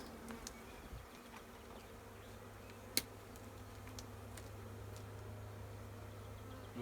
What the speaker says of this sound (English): You see that bee there fanning?